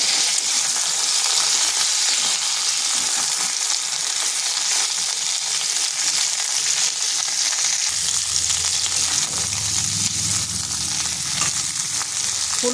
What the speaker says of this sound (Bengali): টমেটোগুলো এই জন্য দিলাম তাতে একটু ভাজা হয়ে যাবে ফুলকপির সাথে